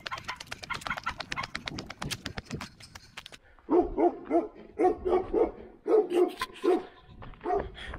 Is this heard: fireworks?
no